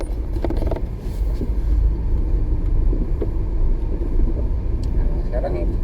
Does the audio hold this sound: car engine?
yes